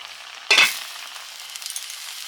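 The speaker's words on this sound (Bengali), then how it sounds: "দুধ দিয়ে দিচ্ছি এখন সেদ্ধ হবে" Milk is poured into a pan of crab curry with potatoes, setting off a sudden sharp sizzle that fades into a soft, steady simmering hiss.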